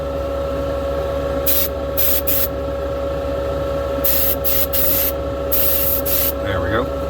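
Spray paint hisses onto small parts in several separate bursts of differing length, close and bright over a constant low mechanical hum in the background.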